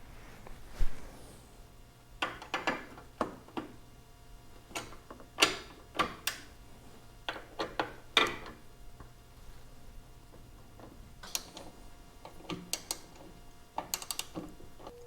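Ratcheting wrench and driver work on T45 Torx bolts and 9/16 nuts holding a saddlebag support bracket on a Harley-Davidson Street Glide, giving scattered close clicks and metallic ticks in irregular bursts over a quiet background.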